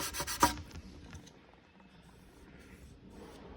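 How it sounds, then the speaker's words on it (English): A metal work part is rubbed briskly across sandpaper in a brief, loud, gritty burst at the start, then only faint rustling and room noise remain. "Just rub it on the sandpaper."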